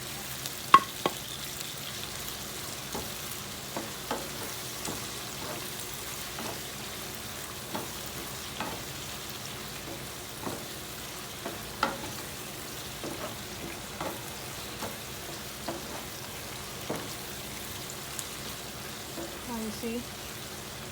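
Potato and codfish fry in oil while being stirred, a soft continuous sizzle punctuated by scattered clicks and taps of a utensil against the pan throughout.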